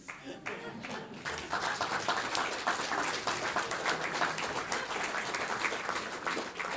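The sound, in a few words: photographers applauding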